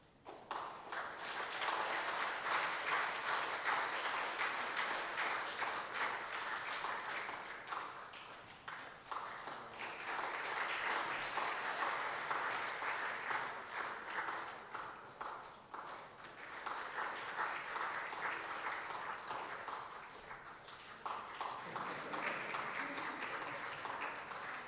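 Sustained audience applause at a church Sunday service as children receive gifts, steady clapping in several long waves with brief dips between them, lasting the whole stretch.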